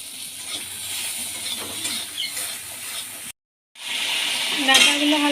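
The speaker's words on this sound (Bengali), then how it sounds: "এবার ওই তেলের মধ্যে ডাটাগুলো ভেজে নেব" Vegetable stalks frying lightly in oil for a bitter gourd curry, giving a steady soft sizzle with faint stirring clicks, broken by a brief silent gap before the sizzling resumes slightly brighter.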